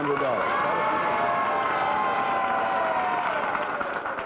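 A studio audience at a 1961 Price is Right game-show taping applauds in a steady, dense wash of clapping that holds at an even level for the full stretch.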